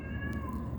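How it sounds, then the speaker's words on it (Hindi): A hungry cat gives one drawn-out meow, fairly close and steady, over low background noise outdoors near a house. "ये देखिए, बिल्ली है, बेचारी भूखी है।"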